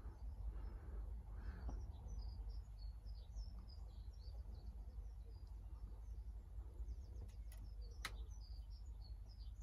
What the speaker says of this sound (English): Here's twittering birds.